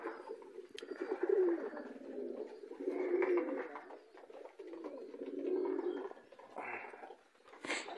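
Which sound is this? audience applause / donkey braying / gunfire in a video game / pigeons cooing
pigeons cooing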